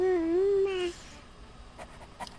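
A yappy dog in the video game King's Quest VII lets out one short whining, rising-and-falling whimper up close, followed by near silence and a couple of faint clicks.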